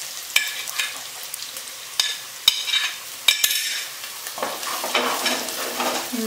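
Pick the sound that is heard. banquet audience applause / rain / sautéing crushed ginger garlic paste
sautéing crushed ginger garlic paste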